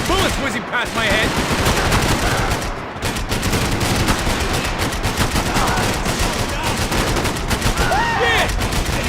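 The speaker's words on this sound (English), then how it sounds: "I can't concentrate with bullets whizzing past my head." Dense, nonstop gunfire fills a shootout in the video game Max Payne 3, with rapid bursts and whizzing bullets layered with game sounds throughout, loud and close.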